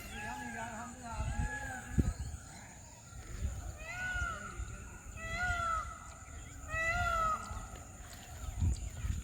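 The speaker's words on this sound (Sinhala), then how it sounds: "ඇහෙනවද මොනරුන්ගේ සද්දේ?" Peacocks give repeated high, wailing calls across a misty village morning, sounding at a moderate distance in bursts, while people talk quietly and low rumbling background noise runs underneath.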